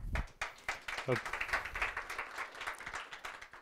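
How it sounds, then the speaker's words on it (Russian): Conference audience applauding a speaker introduced before a talk on reinforcement learning in games, steady close crowd clapping with many overlapping hand claps throughout. "Аплодисменты."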